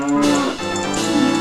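A cow in The Legend of Zelda: Ocarina of Time lets out a single long, loud, drawn-out moo that fills the whole moment with no talking over it.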